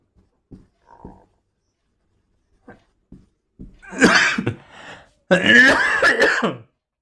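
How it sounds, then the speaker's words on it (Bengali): A few small throat sounds, then a person clears their throat and coughs in harsh, raspy bursts, close by, separated by short pauses. "কাশি লাগছে, একটু জল খেতে হবে।"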